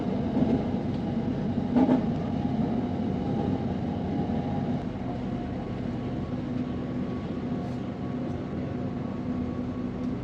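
Electric train rolling on ground-level track near Bang Sue, Bangkok, after an elevated stretch, a steady close rumble and hum throughout with a faint voice near the start.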